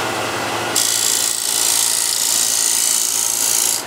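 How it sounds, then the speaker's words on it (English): Shear scraper held flat against willow wood, a continuous rough rasping scrape starting abruptly after a brief pause and running close and loud for a few seconds before stopping. "So this is the shear scraper, but I'm going to use it flat."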